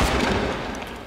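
Gunfire from the video game Breach, a short dense burst of loud booming shots that fades out within about a second.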